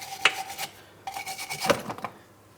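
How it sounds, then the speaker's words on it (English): A wire brush scrubs the subframe of a 2004-2008 Pontiac Grand Prix, giving short raspy scraping strokes in two close bursts with light metallic scratches. "I'm cleaning this using a wire brush"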